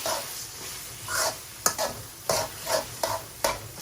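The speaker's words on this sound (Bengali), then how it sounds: "কচুর কি অবস্থা, 2-3 মিনিট লাড়াচাড়া করছি" Taro (kochu) is stirred in a frying pan while it sizzles, with a spoon scraping in a steady run of repeated strokes, close and fairly loud, with no talking.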